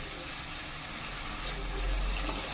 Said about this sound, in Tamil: இதுக்கு தேவையான தண்ணி ஊற்றிக்கலாமா?